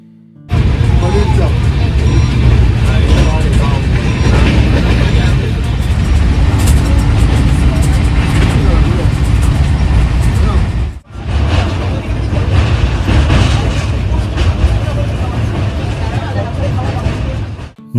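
Loud, steady rumble of a passenger train running from Kolkata toward Ghatshila, continuous for most of the stretch with a brief dip partway through, and indistinct voices murmuring beneath.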